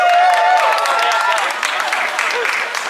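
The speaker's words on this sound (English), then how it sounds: "round of applause" Audience applause at a city budget rally outside a city hall, a short dense burst of clapping that fades slightly, with voices audible over it.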